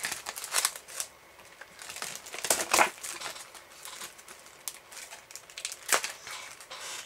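Crinkly plastic packaging around sticker sheets is torn open and handled up close, with irregular sharp crackles and rustles and a few louder crunching bursts.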